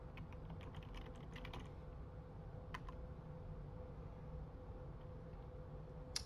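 Typing on a computer keyboard at a Windows PC, a quiet run of soft key clicks in the first seconds and a few isolated taps later, over a steady low electrical hum.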